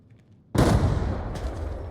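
Gunfire in the video game Arena Breakout Infinite erupts as a sudden loud burst after a quiet moment, then rolls on as sustained shooting with echoing reverberation through the rest of the moment.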